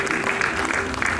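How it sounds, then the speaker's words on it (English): Audience applause welcoming a speaker onto the stage at a culture and environment commission session, a brief steady wash of clapping that fills the whole moment. "Give a round of applause for Dr. Ranjisha"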